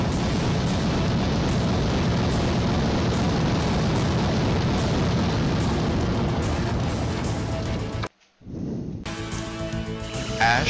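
A huge fire spell from the sorceress Coretta engulfs all enemies in Wizardry: Tale of the Forsaken Land, a loud, sustained roaring blast of flame and explosions that cuts off abruptly near the end, followed by a brief shimmering magical tail.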